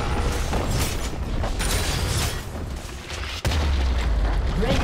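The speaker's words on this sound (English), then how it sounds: "Red team's turret has been destroyed." Turret destruction in League of Legends, a dense rumbling crash with mechanical creaks and booming impacts that runs loud and continuous, with a brief drop and then a heavy renewed burst.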